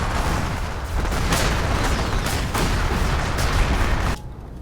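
Steam cannons and artillery boom repeatedly in a Rise of Legends strategy battle, a dense, continuous barrage of loud blasts and explosions that ends abruptly near the close.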